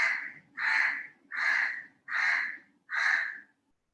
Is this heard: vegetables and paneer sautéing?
no